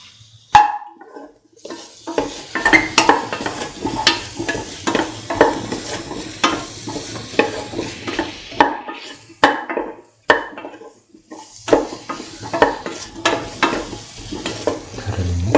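Spoon stirring garam masala spices into a potato and rice mixture in a pan, with steady scraping and clinking strokes over a light sizzle, close and continuous, no talking.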